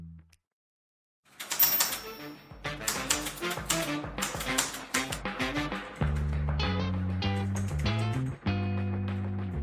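Rapid typing on a FINEDAY 3 full-aluminum Bluetooth mechanical keyboard with aluminum keycaps gives crisp, close clicks in quick bursts, later overlaid by steady electronic music tones.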